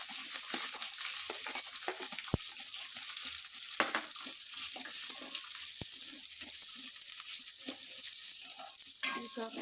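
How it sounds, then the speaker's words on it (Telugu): Onion, dried red chillies and curry leaves fry in hot oil as cabbage and dal fry is made, a steady close sizzle with occasional stirring scrapes and sharp clinks. "ఇప్పుడు ఆనియన్ వేసుకుందాము."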